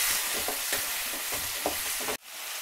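Sour and sweet tomatoes frying in a pan, with a continuous loud sizzle broken by regular scraping strokes of a stirring spoon, close up, then cut off abruptly near the end, with no speech.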